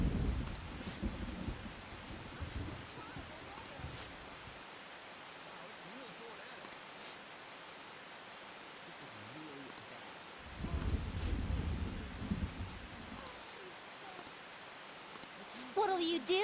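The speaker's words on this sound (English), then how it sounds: "It's raining really hard." Heavy rain hisses steadily through a Persona 5 Royal scene, with low rumbling thunder swelling at the start and again around the middle, the storm moderately loud and constant throughout.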